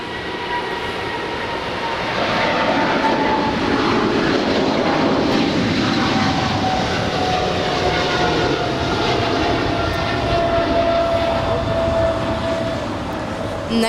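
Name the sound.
Atlas Air Boeing 777 freighter taking off at LAX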